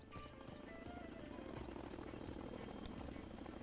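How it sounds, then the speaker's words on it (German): A helicopter arrives at a landing pad in Zoo Tycoon Ultimate Animal Collection, its rotor a faint, steady rhythmic chop under a speaking voice. "Weil dann taucht gleich der Helikopter auf."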